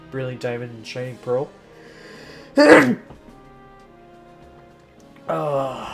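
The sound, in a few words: sneeze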